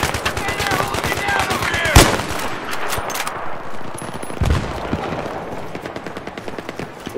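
Rapid automatic gunfire in the video game Battlefield 3 on the Noshahr Canals map, dense bursts of shots with a sharp crack near two seconds and distant explosions, loud and continuous, with faint voices underneath.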